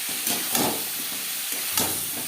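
Tomatoes tipped into onions frying in a pan for a green-tomato pabda fish curry, giving a steady loud sizzle with several sharp bursts of hiss and stirring scrapes as the wet pieces hit the hot oil.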